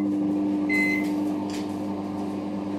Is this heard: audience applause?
no